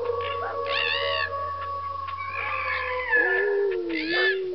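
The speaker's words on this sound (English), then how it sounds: "Cat." Cartoon-style animal calls from The Magic School Bus Animals computer game, a rising and falling cat meow mixed with howl-like wails, loud and close with no talking.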